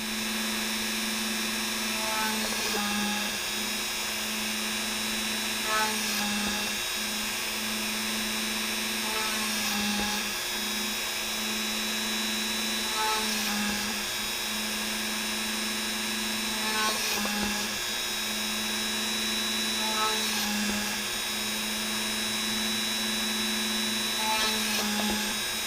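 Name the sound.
Dremel rotary tool drilling holes in Kydex holster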